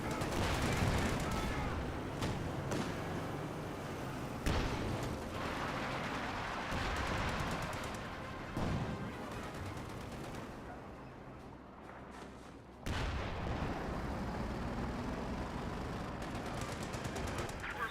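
Rapid machine-gun bursts and scattered gunshots from a Company of Heroes 2 battle keep rattling at mid distance, with a few heavier impacts. A voice talks over the battle noise.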